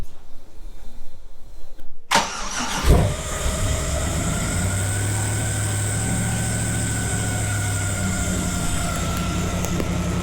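A Nissan 300ZX with a swapped LS V8 cranks and catches with a sharp burst two seconds in, then settles into a loud, steady, throbbing idle that holds to the end, close by with no talking.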